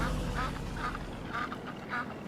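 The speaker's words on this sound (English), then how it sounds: "Do I hear geese?" Geese calling in the farming game Farming Simulator 19, a series of honking calls repeating about every half second at moderate distance over a low background hum.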